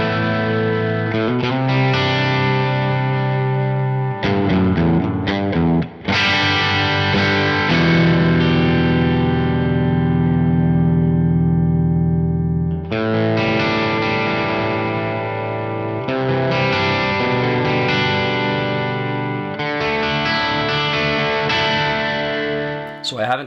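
A hand-built Icelandic Telecaster electric guitar played through heavy distortion: sustained chords and riffs ring out loudly, broken by a few short pauses and restarts, with a chorus-like shimmer.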